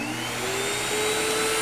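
A central vacuum system runs steadily with a loud, continuous motor whine and airflow rush, the pitch rising slightly as it spins up, with no talking.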